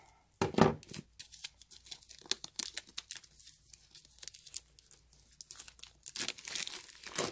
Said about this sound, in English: so I'm opening it for the first time,